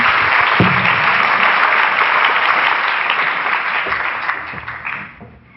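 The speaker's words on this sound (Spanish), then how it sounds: "Por favor, un aplauso para nuestra singular expositora" A conference audience gives a keynote speaker a full round of clapping, which stays loud and dense for several seconds and then tapers off toward the end.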